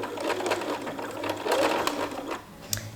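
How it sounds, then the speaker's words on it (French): A sewing machine sewing a backstitch at the start of a seam on a dress, a fast, close, steady whirring stitch rhythm that eases briefly near the end before a final clunk. "Donc je fais un point d'arrêt pour débuter."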